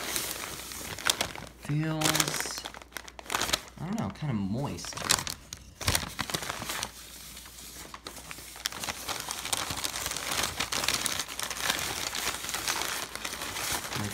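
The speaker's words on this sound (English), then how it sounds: "So it's wrapped in paper." Crinkling and tearing paper as a wrapped Criollo cacao pod is unwrapped, close and busy, with a person talking over the rustling and bursts of louder crackles.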